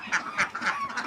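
Chinese geese on a farm honking in a quick run of about four loud, nasal calls, close by with no voices over them.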